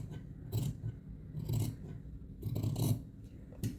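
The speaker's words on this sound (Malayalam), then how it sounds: "സ്ലീവ് ഇങ്ങനെയൊന്ന് കട്ട് ചെയ്ത് കൊടുത്തിട്ടുണ്ട്." Scissors snip through the sleeve fabric of a one-tuck blouse in three close, crisp bursts of cutting with short pauses between them.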